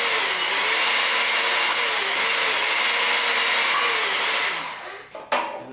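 HYTORC Simultorc hydraulic torque tools tighten four bolts at once with backup wrenches, giving a loud, steady broadband whir that holds for about five seconds, then drops away into a few short clunks.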